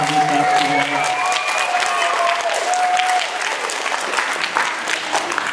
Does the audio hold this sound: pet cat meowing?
no